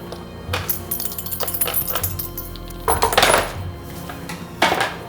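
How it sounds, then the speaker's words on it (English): Dice rolled during a tabletop role-playing game session: several bursts of small hard pieces clattering and clinking on a surface, scattered and near, with a louder rattle in the middle and another near the end. "I heard too many dice being rolled"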